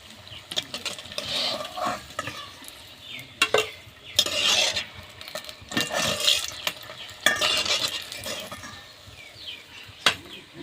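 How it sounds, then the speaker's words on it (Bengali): Besan-battered stuffed green chillies frying in hot oil, with continuous close sizzling and bubbling broken by clinks and scrapes of a utensil turning them in the pan. "এবারে পরেরগুলোও আমি একইভাবে বেসনে ডুবিয়ে একইভাবে আমি তেলে দিচ্ছি উল্টে পাল্টে আমি এগুলাও একইভাবে ভেজে নিব"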